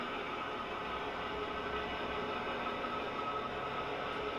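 A model railway locomotive hums along a layout in a faint, even, continuous rumble with no talking.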